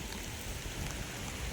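Steady heavy rain falling outdoors during a fishing trip, a dense continuous hiss with no clear breaks, fairly close and uniform, with no talk.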